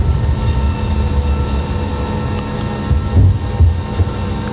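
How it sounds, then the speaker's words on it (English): A Boeing 747's landing gear comes down in the X-Plane 11 flight simulator: a steady, loud low rumble of the airliner with a few heavier thuds and surges partway through, with no talk. "I'm going to put the gear down."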